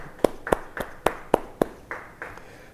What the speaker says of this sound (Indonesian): Yang mau beri tepuk tangan yang baik bagi Tuhan